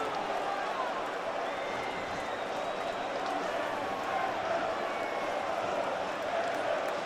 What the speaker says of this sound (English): there's the crowd up in voice now